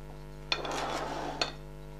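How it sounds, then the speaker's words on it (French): A knife works through bananas on a hard surface: a sharp tap, about a second of scraping and rubbing, then a second tap, heard close over a faint steady hum and without any talking. "on va commencer par éplucher et couper nos bananes"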